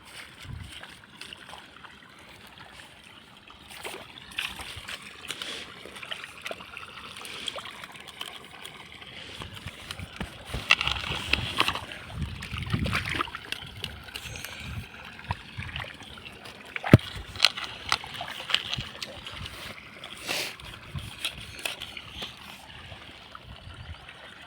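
Water gushing through a broken irrigation channel on a farm field, a steady rushing trickle with splashy surges that grow louder midway, with no voices.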